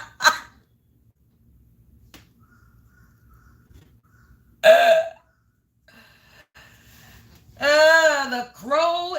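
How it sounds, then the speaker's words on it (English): Crows cawing in a group outdoors, with harsh calls at the start, a loud burst near the middle and a run of repeated caws at the end, separated by quiet stretches with faint background noise. "The crow is crowing,"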